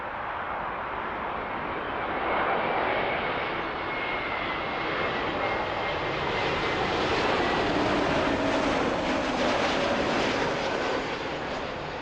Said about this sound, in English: Here comes an A321 from Amsterdam.